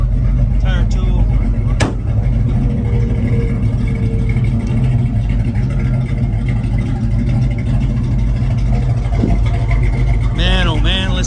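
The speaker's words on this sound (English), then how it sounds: "Man, oh man, listen to that rumble." A 1978 Pontiac Trans Am Hurst Edition with a Butler Performance 461 engine idles with a loud, steady, deep rumble, close by, while people talk briefly over it.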